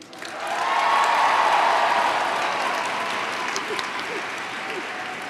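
A commencement crowd breaks into loud applause and cheering that swells within the first second, peaks, then settles into sustained clapping with scattered whoops, no speech over it.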